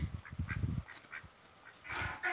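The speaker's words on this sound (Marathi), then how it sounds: "इथं बदकं पाळलेली आहेत" Several domestic ducks quack in short, nasal bursts, fairly close, with brief pauses and a rougher flurry of calls at the end.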